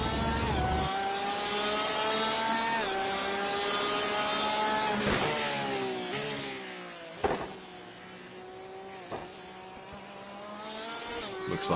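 A race car's engine revs hard and sustained as the car flips over a curb at Twin Ring Motegi, its pitch rising and dropping through several rev changes, with brief sharp bangs from the impact near the middle.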